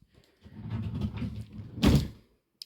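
A drawer on a nursery chest of drawers slides open with a scraping, rumbling glide, then lands with a firm wooden thunk, close by and without speech.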